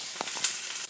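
Onions, starting to turn golden, fry in a pan for a creamy tuna pasta sauce. They crackle and hiss in a dense, bright sizzle with a few soft stirring bumps, close by and without speech.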